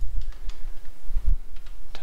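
Light keystrokes on a computer keyboard, a handful of soft scattered taps at an irregular pace, close and fairly quiet with no talk.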